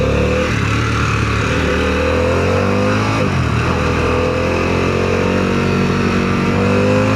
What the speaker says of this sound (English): So we'll get one more rip out of here.